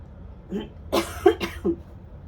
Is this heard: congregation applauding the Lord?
no